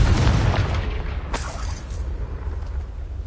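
In Hogwarts Legacy, a Confringo spell sets off a loud, close explosion, a deep rumbling boom with a sharp crack about midway, then a fading rumble.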